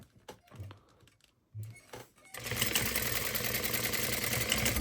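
A home sewing machine topstitches a fabric crossbody bag strap connector, starting with a few short bursts and then settling into a steady, loud, continuous mechanical whir up close.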